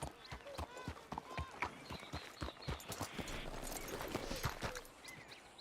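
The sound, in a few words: horse hooves clip-clopping in a ranch roleplay video game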